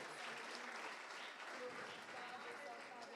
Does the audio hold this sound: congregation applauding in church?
yes